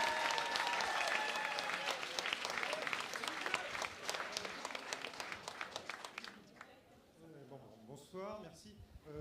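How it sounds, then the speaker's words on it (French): An audience at an evening election rally between rounds of the 2022 French legislative elections bursts into dense applause that gradually thins into scattered claps, with a man then starting to speak. "D'abord applaudissez-le."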